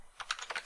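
Several quick, crisp keystrokes on a computer keyboard, ending with the Enter key, typed while entering input into a C# console program. The clicks are close and sharp, with no talking.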